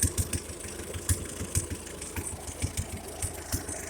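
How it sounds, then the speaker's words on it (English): A Ferguson TO-35 tractor engine with an exhaust leak idles roughly nearby, punctuated by sharp irregular pops and puffs from the exhaust, no voices. "They don't like that exhaust leak there. You hear it popping, so it's trying to idle."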